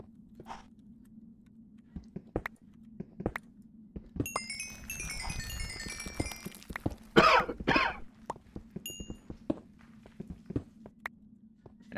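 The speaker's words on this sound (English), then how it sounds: "we don't have to hear the constant coughing" A video game character gives a few short coughs and throat-clearing bursts against a steady low hum, with scattered clicks and small thuds around them.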